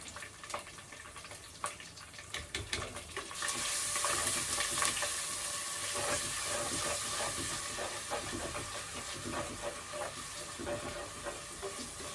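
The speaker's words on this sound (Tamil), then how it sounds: "நல்லா கருவேப்பிலையும் காஞ்ச மிளகாலாம் பொரிஞ்சிட்ருக்கு." Curry leaves and dried red chillies splutter and crackle in hot oil for a vegetable curry, a steady close sizzle that grows louder partway through, with scattered pops and the occasional stir of a spoon.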